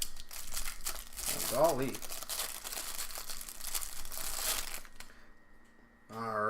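Crinkling and tearing of tape and wrapping as a taped package is opened, a dense rustle over several seconds near the mic, with a voice speaking briefly over it.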